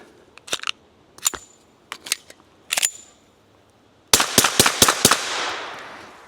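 A Silencer Central Banish 9K suppressed pistol fires four spaced pairs of sharp cracks, then a quick string of five louder shots with a lingering echoing tail, nearby and outdoors with no speech.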